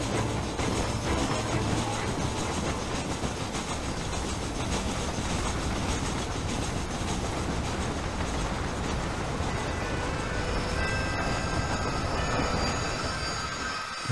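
A train rolls past in Red Dead Redemption, a dense, loud rumble of wheels on rails with metallic squeals rising toward the end, continuous with no talking.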